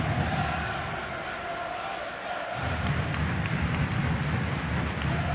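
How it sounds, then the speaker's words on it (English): A large stadium crowd at a Portland Timbers soccer match against C.D. Dragon, a continuous dense roar from the stands that swells slightly partway through, heard from a distance with no clear single voice. "Crowd certainly into this game"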